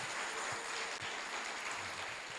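Faint applause from a church congregation during a lively Spanish-language worship service, a dense, steady patter of clapping heard at a distance and blended into the room's reverberant wash.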